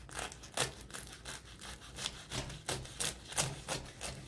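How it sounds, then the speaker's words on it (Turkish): Knife cutting through crispy spinach börek rolled from yufka pastry sheets, with repeated close crackling crunches in an irregular rhythm and no talking. "Bu çıtırtıyı duyuyor musunuz sesini?"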